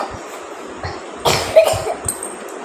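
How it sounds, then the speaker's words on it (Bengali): A child coughs a few times in harsh, dry bursts close to the listener, with short pauses between them and no speech. "এরকম খক খক করে কাশছে, কিন্তু কাশির ওষুধ খাবে না"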